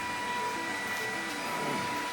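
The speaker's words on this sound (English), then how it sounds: "Sorry for the noise in the background, it's a laser running" A laser machine runs in a workshop, giving a steady, broadband whirring hum with a faint high whine, constant throughout at moderate level.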